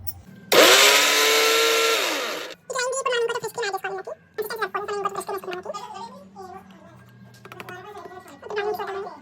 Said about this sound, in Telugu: సో ఇది కన్సిస్టెన్సీ వచ్చేదాకా మనం గ్రైండర్ పట్టుకోవాలి